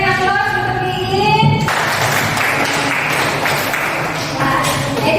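A classroom audience breaks into applause during an accounting lesson on tax payment. A voice speaks briefly, then a burst of many hands clapping fills the room and continues densely and evenly to the end.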